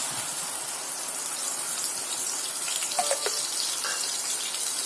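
Onion paste dropped into hot oil while making egg kurma: a loud, even hissing sizzle fills the whole stretch, with a few brief clinks near the middle and no voices.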